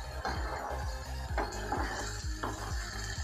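Boiled moong dal being stirred into spice masala in a pan, with steady scraping strokes of a spoon against the metal and a continuous sizzle underneath, close and fairly loud.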